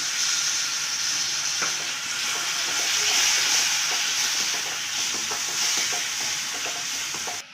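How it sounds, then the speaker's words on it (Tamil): Thick tamarind water poured into curry leaves frying in oil sets off a loud, steady sizzle with crackling and bubbling, close and continuous throughout, with no talking. "இந்த டைமில் நம்ம திக்காக புளி கரைச்சி அதில் ஊற்றிக்கலாம் கொஞ்சமாக"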